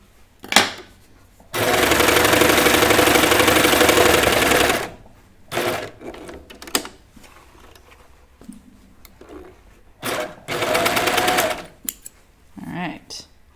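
A sewing machine stitches a knit T-shirt: one long steady run, then several shorter bursts, close by, with a person speaking in the gaps between runs.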